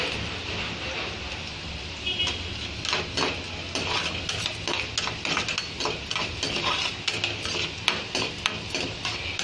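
Garlic roasting in a pan for chicken pickle is stirred with a metal spoon, giving repeated scraping clinks against the pan over a steady sizzle, close and moderately loud.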